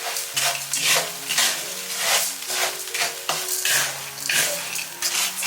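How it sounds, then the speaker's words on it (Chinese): Salt being stir-fried in a pan with coriander, star anise, bay leaves, Sichuan pepper and cloves: a utensil scrapes and tosses the dry mixture in repeated rhythmic sweeps, with a loud, close, gritty rasp and light sizzle. "放入香菜，继续炒香"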